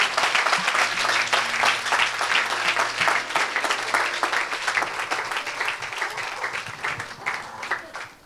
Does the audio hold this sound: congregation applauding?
yes